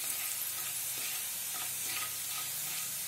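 Whole spices, including coriander seed, cumin, cloves, cinnamon, black pepper and bay leaf, roast in a pan with a continuous faint sizzle and a few soft stirring sounds.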